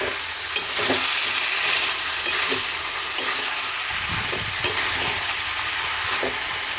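Cabbage and potato curry with spices being stirred and fried in a pan: a steady sizzle throughout, punctuated by a few sharp scrapes and clinks of the spoon against the pan.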